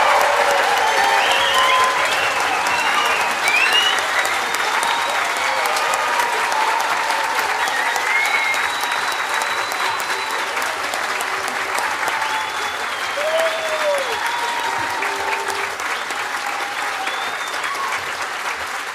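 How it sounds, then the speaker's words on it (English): A large audience at a university graduation ceremony applauds loudly and continuously, a dense, sustained roar of clapping with faint cheers and whistles. "send our graduates on their way with the loudest round of applause that you can possibly manage"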